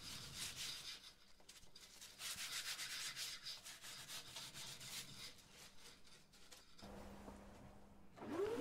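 Steady rasping scrapes of sandpaper rubbing on the wood of a Stratocaster guitar body, close and continuous, with a rhythmic back-and-forth texture and a low hum near the end.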